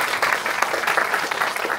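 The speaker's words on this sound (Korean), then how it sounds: "다시 한번 힘찬 박수 부탁드립니다" A crowd at a labor union staff retreat gives a short burst of enthusiastic applause, steady and dense clapping filling the room throughout.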